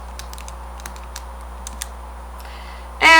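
Light tapping of keys on a handheld calculator while entering a trigonometry calculation, a series of soft irregular clicks over a steady hum, followed by a louder burst of noise at the end.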